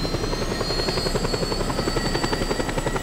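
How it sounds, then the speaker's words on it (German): A helicopter in the video game Just Cause 2 flies with a steady, loud, continuous rotor thrum and a high engine whine throughout, alone with no talk. "Ein Profi fliegt Helikopter."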